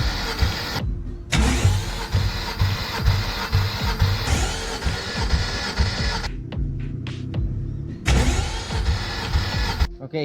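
A low-compression car engine with an 8.5:1 ratio cranks during a compression test, giving a loud, rapid, rhythmic chugging of the starter in several long bursts separated by brief pauses.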